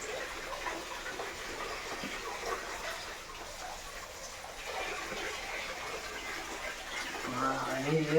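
Water flowing at a hidden waterfall in Jogimatti, a steady rushing wash heard from nearby at modest level, rising slightly toward the end, with a voice talking faintly in the background.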